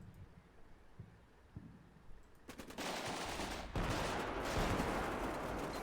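Bursts of automatic gunfire from machine gunners, engineers and an ATGM team in an urban invasion firefight in a tactical video game, quiet at first, then growing into dense, sustained volleys that stay loud and close to the end.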